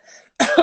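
A single short, forceful human cough, made as a deliberate test of the pelvic floor. A faint breathy sound comes just before it, and nothing else is heard.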